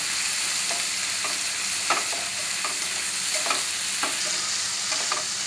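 Fresh chilies and mussels stir-fried in a hot pan, a steady loud sizzle broken by repeated scraping knocks of a spatula at an irregular rhythm, close up with no talking.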